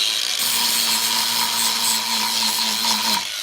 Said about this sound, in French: on finit donc d'ébavurer l'arrière